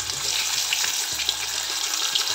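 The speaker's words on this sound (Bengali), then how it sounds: "এবার পনিরের টুকরো দুটো দিয়ে দেব" Paneer pieces fry over low heat in hot oil and ghee, a steady close hiss with faint scattered crackles running throughout and no voices.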